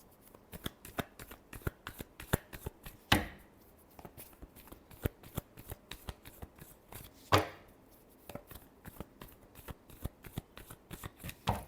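Tarot cards are shuffled by hand in quick, crisp riffles and taps, a dense run of close flicking clicks with a couple of sharper snaps as the deck is squared.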